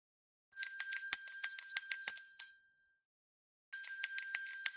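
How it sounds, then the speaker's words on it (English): A bright metallic bell rung in rapid repeated strikes for a few seconds, then silence, then another quick burst of ringing; loud, close and alone. "So the answer was the sound of a bell."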